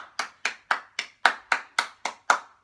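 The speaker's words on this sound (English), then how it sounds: "give yourself a clap" Nine crisp hand claps in an even rhythm, each a sharp slap with a short decay, heard close and on their own with no talk, from people clapping at the end of a home workout session.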